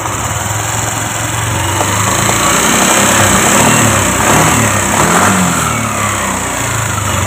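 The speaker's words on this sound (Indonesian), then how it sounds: "coba digas motornya" A Yamaha Aerox 155 scooter with an abnormal battery charging fault runs close and loud, its engine note swelling as it revs and then easing back toward idle.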